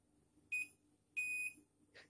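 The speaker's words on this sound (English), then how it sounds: "When you authenticated successfully using finger, this light will be blink green, long beep" A fingerprint door access control device gives two short electronic beeps, the second held longer, followed by a brief softer tone, clear and close in a quiet room.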